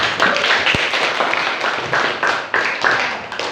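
A classroom of students gives a brisk round of applause after their discussion portfolios are shown, dense clapping that holds steady for a few seconds with one sharp knock partway through.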